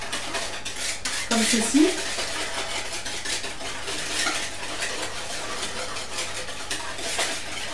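Dishes and cutlery clatter as flour mixed with salt and yeast is stirred in a bowl for homemade cookie dough, a brief louder scraping burst near the start amid steady kitchen noise, with someone speaking briefly.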